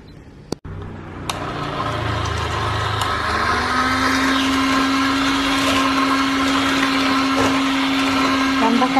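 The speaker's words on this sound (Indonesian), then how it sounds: "lalu kocok sampai mengembang" Electric mixer beating pandan sponge cake batter with emulsifier, a steady loud whirring hum that rises slightly in pitch as the batter thickens, with a brief clunk as it starts.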